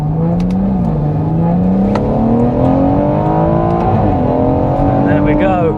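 Stage 2+ tuned BMW M140i making 500 bhp accelerating hard off the line in a drag race on a runway, engine note climbing steadily through the gears with a brief shift dip, loud and close throughout.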